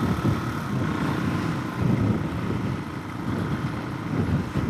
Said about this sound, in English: This wind is egregious. It's blowing pretty hard